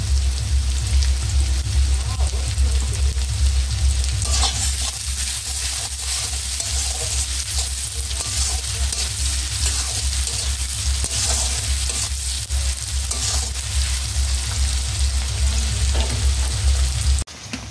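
Onion and tomato fry in a pan with salt, a continuous loud sizzle with crackling spatter that holds steady throughout, with occasional stirring clicks and a low hum underneath.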